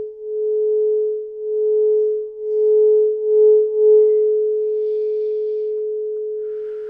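A steady pure tone hums continuously, its loudness gently swelling and dipping several times before settling into an even, slowly fading drone.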